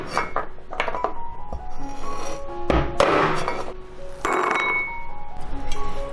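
A knife halving washed olives on a cutting board for a Chaozhou-style soup, giving a series of short, close knocks and clinks against the board, with a few louder taps spaced unevenly.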